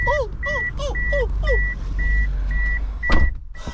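A steady series of car reversing beeps, about two per second, sounds close by over a low vehicle rumble, with a few warbling chirps early on.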